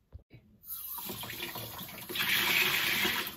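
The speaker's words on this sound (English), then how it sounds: "turn the water back on, and see how it works" Water turned back on through household plumbing after fitting a SharkBite push-fit valve: a short knock or two, then a steady rushing flow that swells louder partway through, close by.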